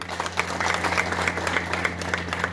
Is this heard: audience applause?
yes